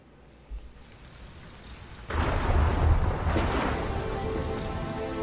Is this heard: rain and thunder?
yes